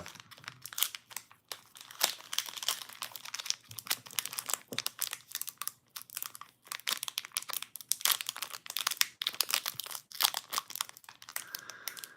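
Foil Pokémon card pack wrapper crinkling and tearing open, a steady stream of close, sharp crackles and rustles with brief pauses, no voices.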